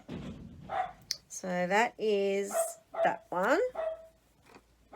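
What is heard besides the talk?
dog barking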